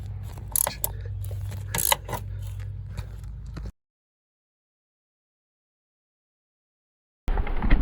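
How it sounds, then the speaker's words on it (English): A gear wrench ratchets on 9/16 bolts while removing the seat of a 1967–72 Ford F-100 truck, giving a close, steady run of small clicks and scrapes for a few seconds before an abrupt cut to silence. "this looks like perfect job for a gear wrench"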